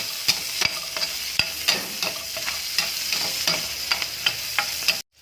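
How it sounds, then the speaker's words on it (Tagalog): Vegetables sautéing with onion and garlic in an oiled pan for pancit guisado, with a steady sizzle under a rhythmic run of sharp spatula scrapes and taps, close and fairly loud, cutting off abruptly at the end. "Igigisa na natin ang ating gulay. Sasabayin ko na yung sibuyas at bawang. Halo-halo lang."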